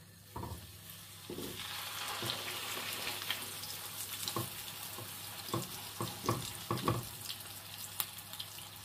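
Sturgeon fish eggs sizzle in about two tablespoons of hot oil in a pan, a steady close frying hiss broken by occasional spattering pops and soft stirring knocks.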